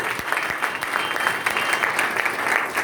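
A church congregation claps together, a dense, steady roll of applause that carries on evenly throughout, loud and close.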